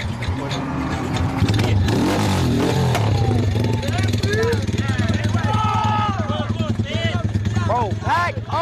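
A motorcycle engine starts and revs close by, with rough rising and falling throttle bursts under excited, near-constant talk from several people.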